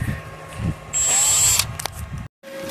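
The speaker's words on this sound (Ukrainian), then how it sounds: "Пробуємо висверлити." A drill bores into a welding machine casing in a workshop, a short loud whining burst of about half a second that stops, followed by scraping, a brief silence, and a faint hum.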